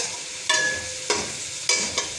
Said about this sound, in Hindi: ये देखिए मसाला अदरक लहसुन और हरी मिर्चों का पेस्ट फ्राई हो चुका है अच्छे से।